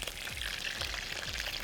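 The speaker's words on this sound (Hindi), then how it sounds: "इस तरह से आपने एग प्लांट को फ्राई करना है" Eggplant slices fry in hot oil, giving a steady, close crackling sizzle with small pops that run continuously with no one talking.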